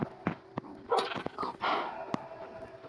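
A dog gives several short, sharp barks and yips at irregular intervals, fairly close, with some rustling in between.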